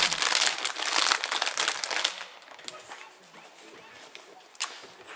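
Plastic packaging of a big pack of madeleines crinkles loudly and close for a couple of seconds, then settles into quieter rustling with an occasional sharp crackle.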